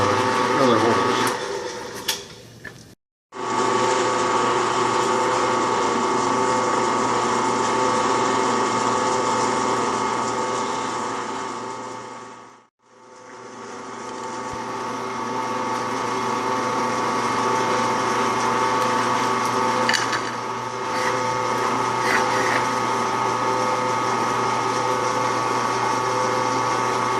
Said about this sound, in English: drill out the holes for the clamp that holds in the power pole clamp